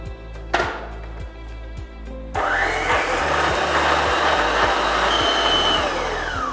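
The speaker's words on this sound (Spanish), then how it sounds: "Batimos hasta esclarecer la manteca con el azúcar" Electric mixer beating butter and sugar for Christmas cookies, starting with a few short bursts and then settling into a loud, steady whirring drone up close.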